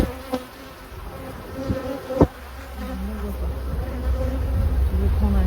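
A dense, steady drone of honeybees buzzing around an open hive during queen marking, close and continuous with a few faint knocks and handling noises, and no one speaking.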